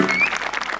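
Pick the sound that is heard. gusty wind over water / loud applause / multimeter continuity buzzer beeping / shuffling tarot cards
loud applause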